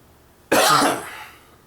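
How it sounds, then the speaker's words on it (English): A single harsh, close cough bursts out suddenly from silence, then trails off into a rasping breath. "I'm going to be coughing the rest of this video."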